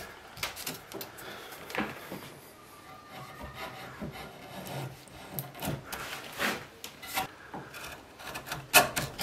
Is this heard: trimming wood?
yes